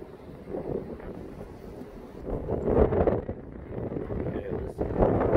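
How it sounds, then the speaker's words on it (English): Strong gale-force wind buffets the microphone on an open hilltop walk in the southeast, a steady loud roar with gusts swelling and dropping, alone without talk. "Gales in the southeast."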